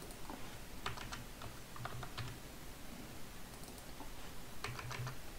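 A user ID is typed on a computer keyboard in short bursts of quiet, close key clicks separated by pauses, faint against a soft room hiss.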